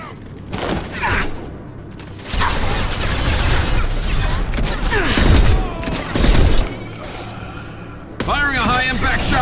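Rapid sci-fi gunfire and heavy booms from a firefight in Mass Effect 2, with crashes and mechanical clatter packed densely over several seconds, plus a brief burst of processed in-game voice near the end.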